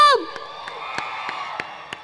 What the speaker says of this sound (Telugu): ఎవరన్నా ఇక్కడ మన హర్ష సార్ ఫ్యాన్స్ ఉంటే ఒక్కసారి క్లాప్స్ కొట్టండి మన హర్ష సార్ కోసం